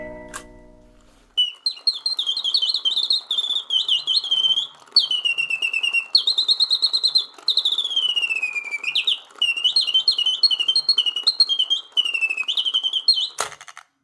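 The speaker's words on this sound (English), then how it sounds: "You slide that to the right and the lid will pop up and the bird will start singing" An antique 19th-century Parisian mechanical singing bird box lets out a brief mechanical whir as it starts, then a bright, continuous run of warbling chirps and sliding whistles, loud and close, ending with a sharp click.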